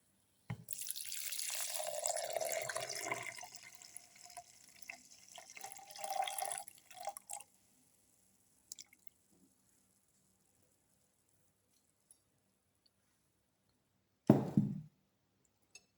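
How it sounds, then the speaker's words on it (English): Milk is poured into a blender jar of carrot pieces while a carrot and rice flakes smoothie is made, a close liquid splash and gurgle lasting several seconds, then quiet with a few small knocks and a short bump near the end. "pour in milk"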